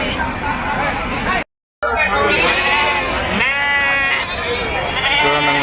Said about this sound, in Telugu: చూడండి సైజు పొట్టేళ్ళ పిల్లలు బాగానే ఉన్నాయి.